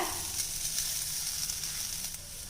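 Cooked rice goes into a hot pan for a lunch box dish, producing a faint, steady sizzle with light crackling and no voices.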